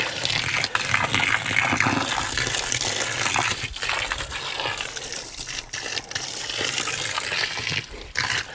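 Water pours steadily onto concrete mix around a fence post, a continuous rushing splash that stays fairly loud and even throughout.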